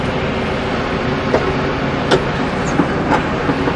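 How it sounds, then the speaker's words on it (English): Seed drill planting Sweet Six BMR sorghum-sudan hybrid, giving a steady mechanical rumble broken by a few sharp metallic clanks at irregular intervals. "We're gonna hear the clanking and clanking."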